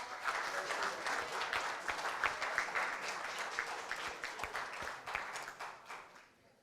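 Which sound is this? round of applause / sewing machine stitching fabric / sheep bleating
round of applause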